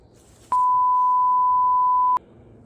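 One steady electronic beep from a phone, holding a single pitch for about a second and a half, sharp-edged at start and end, loud and close over quiet background noise.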